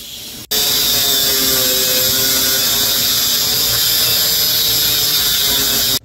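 Metal sheet cut from a drum barrel for a DIY pizza oven, a loud, steady high-pitched grinding whine running almost unbroken for about five and a half seconds after a brief quieter start.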